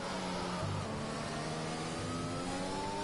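Racing cars accelerating from the start of a video game grand prix in Austria, engines whining and rising in pitch together as one steady, close drone.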